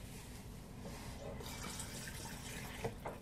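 Water runs from a tap into a container, a faint steady splashing stream with a couple of small drips and clinks near the end.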